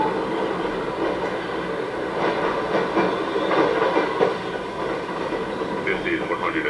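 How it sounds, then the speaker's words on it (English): A New York subway 1 local train pulling into 125th Street and Broadway station, a steady rumble with rail clatter and rising squeal, heard close up, with recorded announcements over the noise. "Approaching the station, please stand away from the platform edge."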